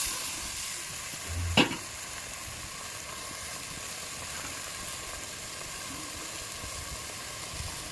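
Onions fry slowly toward golden brown in a clay pot on a clay stove for a village-style mutton curry. A low, even sizzle runs throughout, with one sharp clink from a utensil early on and no voices.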